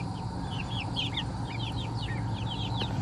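Laying hens cluck and chirp continuously in a flock, a steady chorus of short repeated calls over a constant low background hum.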